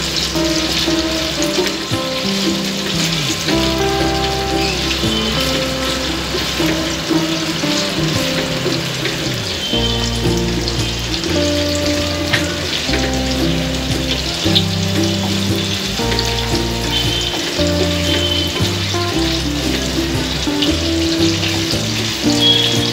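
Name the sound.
chicken frying in a pan for fried rice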